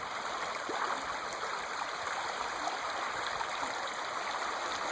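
The Bystrytsia river rushes past in a steady, even wash of flowing water, a fairly quiet continuous hiss and burble heard from the bank with no voices.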